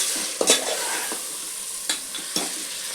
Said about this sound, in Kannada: ಒಂಚೂರು ಫ್ರೈ ಮಾಡ್ಕೊಂಡು ಇದರಂಗೆ ಬೇಯಿಸ್ಕೊಂಬ